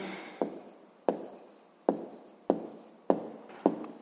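A pen writes on paper during a sixth-grade maths exercise, in six quiet, evenly spaced strokes, each a sharp scratch that fades away, with no talking.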